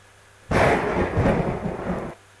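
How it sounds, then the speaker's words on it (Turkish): Thunder played from a recording in a classroom lesson on sound: a sudden loud rumbling roll starts abruptly, rumbles for under two seconds and cuts off sharply. "Gök gürültüsü ise e, bir ses olarak duyuyoruz"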